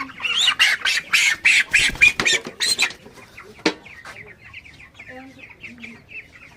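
Broiler chickens cluck and squawk loudly in a rapid, busy burst, then the calls thin out into scattered softer clucks nearby.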